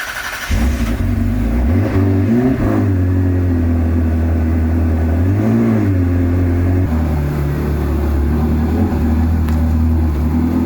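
An old car, driven as an automatic at only two or three miles an hour, pulls away on a slow historic drive, its engine loud and close with steady low harmonics that rise and dip as it revs.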